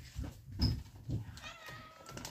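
A cat at a country house gives a few soft, close meows spread over a couple of seconds, with faint household rustling around them.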